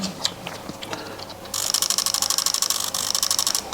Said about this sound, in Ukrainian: Коли ми вставляємо батарейку, затвор у нас починає актуалізовуватися і не проходить актуалізацію.